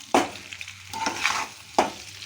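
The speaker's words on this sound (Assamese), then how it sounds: "দি পেলাই ভালকৈ লৰাই দিব।" Pork and potatoes frying in a pan are stirred: two sharp utensil scrapes against the pan stand out, with a soft sizzle and gentle shuffling in between.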